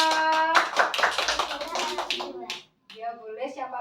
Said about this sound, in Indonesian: Kita kasih tepuk tangan untuk Mbak Wawa.